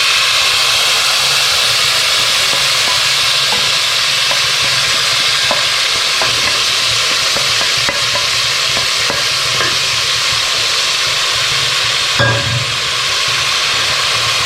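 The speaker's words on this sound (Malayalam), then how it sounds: "നമ്മൾ നേരത്തെ കാണിച്ച വെജിറ്റബിൾസ് നമുക്ക് ആദ്യം വഴറ്റിയെടുക്കണം" Vegetables stir-fried in olive oil left over from frying beef rolls, a steady loud sizzle with the occasional scrape of a stirring utensil.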